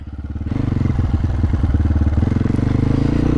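A MOTOPRO 300 motorcycle being ridden, its engine running loud and close with a steady pulsing throb after a brief quieter start, no talk over it.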